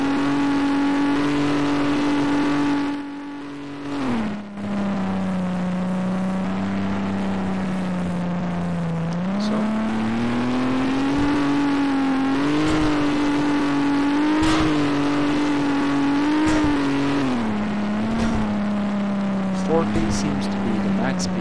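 A virtual ACF car engine in Garry's Mod drones steadily at high revs, its pitch dipping briefly with a gear change and then climbing and wavering as the car holds near top speed, loud and continuous throughout.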